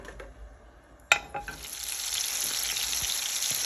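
Tomatoes drop into a hot pan with a sharp clatter, then fry with a steady, close sizzle and crackle that builds and holds, with no voices.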